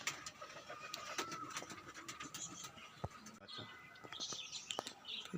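Faint cooing of Giribaz tumbler pigeons mixed with scattered bird chirps and small clicks, quiet and somewhat distant.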